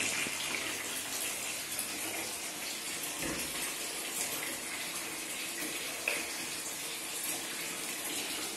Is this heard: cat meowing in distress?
no